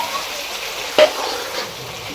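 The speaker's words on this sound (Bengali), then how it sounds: "মা রান্না করছে চিকেনটা দেখো স্পাইসি একদম স্পাইসি চিকেন কারি হয়েছে আজকে" Spicy chicken curry cooks in a pan with a constant close sizzle, broken by one brief scrape or clank of a utensil.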